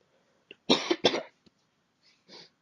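Several harsh coughs close to the mic, two loud bursts followed by a smaller one and a couple of fainter throat sounds, with no talking.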